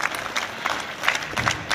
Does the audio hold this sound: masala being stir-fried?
no